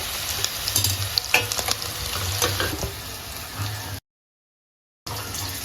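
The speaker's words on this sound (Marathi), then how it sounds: "आपले बटाटे चांगले फ्राय झालेत" Potatoes frying in oil for dum aloo, a steady close sizzle with occasional stirring scrapes, cut by a brief silent gap before the sizzle returns.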